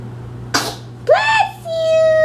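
A baby gives one quick, sharp sneeze close by, and an adult voice speaks briefly right after it.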